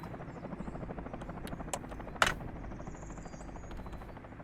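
Helicopters in the city-building game Workers & Resources fly over a winter map, a steady rapid rotor chop held at low volume with a brief sharp click partway through.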